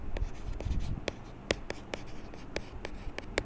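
Equations written by hand with a pen or marker, heard up close as a steady series of scratchy strokes and sharp taps, with no one speaking.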